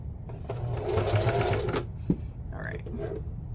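A domestic sewing machine runs in short bursts, stitching two pieces of fabric for a pillow, a close, quiet mechanical whir, with a person speaking between runs.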